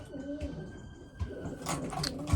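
Racing pigeons in a loft, soft low cooing close by with some rustling and scattered chirps, one brief higher bird call near the end.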